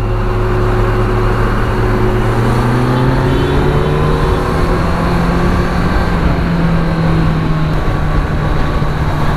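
Road traffic around a moving motorcycle on a congested city road, with a steady loud engine drone and rising and falling vehicle tones throughout, no talking.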